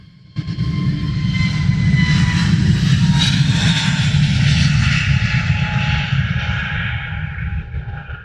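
A jet airliner passes at Luton Airport, its engine roar swelling quickly to a loud, steady rumble with a whining edge, then slowly easing as it moves away, with no talk.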